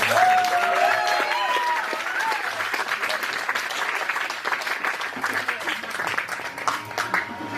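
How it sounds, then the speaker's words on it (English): A crowd applauding steadily throughout at a wedding reception, dense clapping that holds at an even level, with some voices and a brief musical tone near the start. "a big round of applause for"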